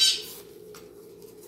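A pet bird gives a short, bright, high squawking chirp right at the start. Only a faint low hum follows, with no talking.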